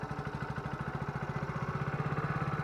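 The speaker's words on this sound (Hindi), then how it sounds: "आइए बाइक को स्टार्ट कर लेते हैं, इंजन साउंड सुन लेते हैं, एग्जॉस्ट नोट सुन लेते हैं।" A Hero Splendor Plus Xtec 2.0 motorcycle engine runs at a steady idle, close by, with an even, rapid putter from the exhaust and no revving.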